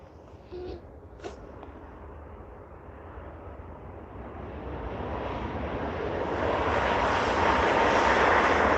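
Jet airliner at Vancouver International Airport, a distant roar swelling steadily louder over several seconds after a quiet start with faint brief clicks.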